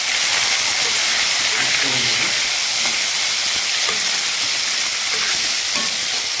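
Onions frying in hot oil with curry leaves, bay leaves and chili for a Telugu-style curry, producing a loud, dense, steady sizzle and hiss that runs unbroken from start to end.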